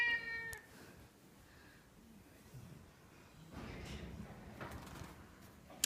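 A cat gives one clear, close meow right at the start, then there are quiet indoor shuffling and rustling noises and a later sliding or scraping sound.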